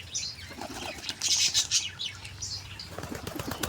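A burst of wing flapping as a pigeon lands nearby, with a couple of quick flutters and faint chirps, no voices.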